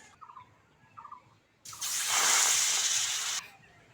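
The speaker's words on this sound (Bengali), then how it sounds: "সর্ষের তেলের মধ্যে ব্যাটারটা দিয়ে দেবো" Batter poured into hot mustard oil on a heated griddle gives a loud, broad sizzle. It bursts in suddenly, holds steady for under two seconds and then cuts off, with faint bird-like calls before it.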